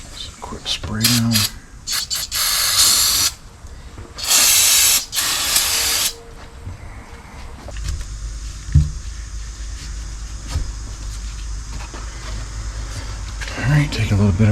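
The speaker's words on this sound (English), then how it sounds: "Just a quick spray down." Spray cleaner hisses onto rear brake parts of a 2021 Ford Ranger 4X4 in a few loud, close bursts of a couple of seconds each, with quieter shop rustling and handling noises between them.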